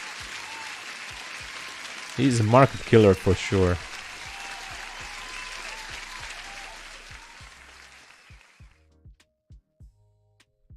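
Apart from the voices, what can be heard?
audience applause for a trader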